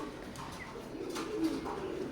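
A pair of golden Teddy pigeons coos softly in a steady, low rolling murmur, fairly faint and close, with no clear voices over it.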